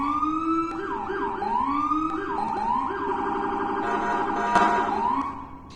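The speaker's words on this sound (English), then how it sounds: "But I can still use all of the same siren functions as the driver." Emergency vehicle siren in a video game, a close, continuous wailing and yelping tone that sweeps up and down repeatedly, switching patterns partway through, with no voices over it.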